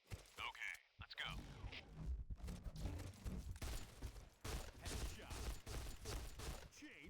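Gunfire in the shooter video game Point Blank Reloaded, with rapid shots in bursts, short silent gaps and game announcer effects, all under a player talking over the action.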